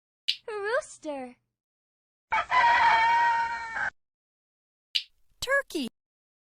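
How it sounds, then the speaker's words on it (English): A rooster crows once, a loud, harsh cock-a-doodle-doo heard close by, set between short bursts of a voice before and after. "Rooster."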